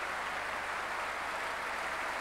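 A concert audience in Symphony Hall applauds an orchestra after a Mahler symphony, producing dense, sustained clapping that fills the hall and stays even throughout.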